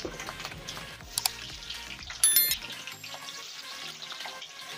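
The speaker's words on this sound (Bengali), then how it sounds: "দুটো আলু সরু সরু করে কেটে রেখেছি, ভেজে নেব ওই তেলে।" Thinly sliced potatoes frying in hot oil crackle softly and steadily, with a few sharp clinks and a brief louder burst of sizzle partway through.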